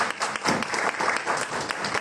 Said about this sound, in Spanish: Les pido un fuerte aplauso para arrancar con la actividad